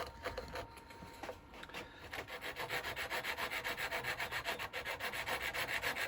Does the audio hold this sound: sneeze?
no